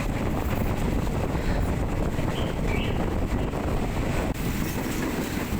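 A train pulls out and runs past Chong Khao station in Nakhon Si Thammarat, Thailand, a loud, steady onboard rumble of wheels and carriages mixed with heavy wind buffeting, continuous throughout with no talking.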